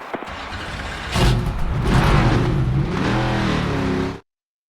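A NASCAR stock car in the NASCAR 25 video game accelerates onto a qualifying lap at Bristol, its loud engine roar building and rising in pitch for a few seconds before cutting off abruptly.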